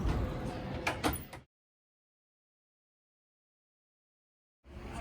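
Automatic double doors in a hospital emergency department, opened with an access code panel, give a brief mechanical rumble and clunk, then a stretch of dead silence before the noise resumes.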